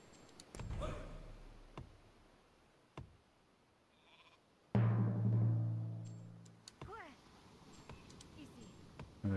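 Sheep bleat in the Northgard strategy game, a few short wavering calls heard moderately close amid other game sounds, with a louder tonal cue swelling in midway and fading out.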